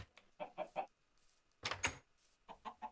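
Minecraft chickens cluck in short bursts of three or four quick clucks, coming in three separate groups with brief quiet gaps between them.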